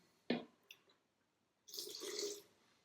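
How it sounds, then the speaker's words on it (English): Water is poured into a blender during the making of a white chocolate strawberry pie: a quiet splash and a few drips, then a short silence, then a soft steady pour lasting under a second. "And I will add a little bit of water."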